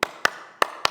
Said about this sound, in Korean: 우리가 2002년 때 그 월드컵 박수 아시죠?